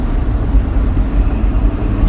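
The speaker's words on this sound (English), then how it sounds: "It is ludicrously loud, but actually a very nice, very addictive note." A Lotus Evora sports car runs with a loud, deep engine rumble that holds steady and close, with a low roar throughout and no other sounds standing out.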